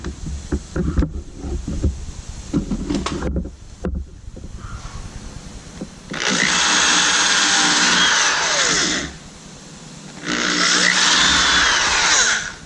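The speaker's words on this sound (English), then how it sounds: "drill our pilot holes in there" Two sustained bursts of a loud power drill boring pilot holes in damp, treated wood, each a few seconds long with a short pause between, after some rustling and handling noises.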